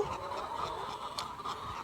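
Many chickens on a poultry farm under heat stress make a faint, continuous murmur of clucks and calls, with no one speaking.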